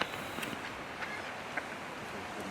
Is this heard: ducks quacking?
yes